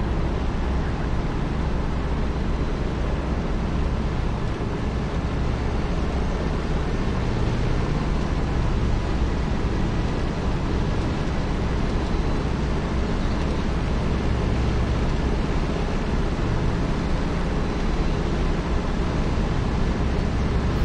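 A P-47D Thunderbolt's radial engine runs steadily during ground run-up checks in the DCS flight simulator, a loud, continuous, broadband roar with no clear rise or fall in pitch.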